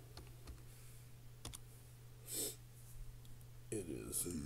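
A computer keyboard is typed on during a live sports card set break, giving a few sparse, faint clicks over a low steady hum, with a short burst of quicker rattling near the end.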